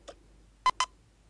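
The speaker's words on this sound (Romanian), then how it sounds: "La el altul nu știu de ce nu a bipăit." Two short electronic checkout-scanner beeps in quick succession from the Toca Boca video game, fairly quiet and clean against near silence, following a faint earlier blip.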